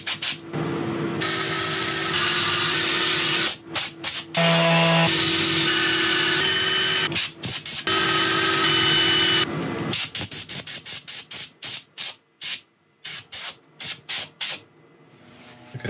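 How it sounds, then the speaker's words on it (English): Sanding a brownheart wood turning on a lathe gives a steady, loud whirring rasp for about ten seconds, then breaks into a run of short, stop-start bursts that fade toward the end. "I'm going to set up for sanding"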